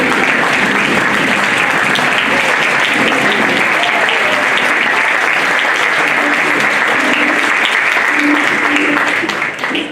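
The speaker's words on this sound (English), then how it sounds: "please stand as we applaud you." Loud, sustained audience applause at an internal medicine residency graduation ceremony, a dense unbroken roar of many hands lasting the full stretch before tapering at the very end, with faint voices mixed in.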